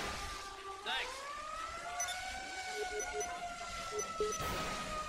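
Ambulance siren wailing in the police game LSPDFR during a fire callout, a rising and falling electronic tone sweeping steadily at moderate distance among other game noises, with a voice talking briefly over it.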